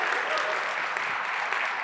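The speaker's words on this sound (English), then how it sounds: "Don't be afraid to clap" A conference audience at a business event claps in a dense, even burst of applause. It is fairly loud and sustained for the whole short moment, with some crowd voices mixed in.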